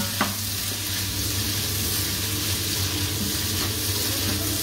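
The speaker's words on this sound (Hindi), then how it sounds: "ये मैंने डाल दिया है गार्लिक और प्याज, और इसे मैं फ्राई कर लूंगी कुछ देर के लिए" Garlic and onion fry in a pan with a steady, close sizzle, broken by a couple of brief stirring clinks, with no talk over it.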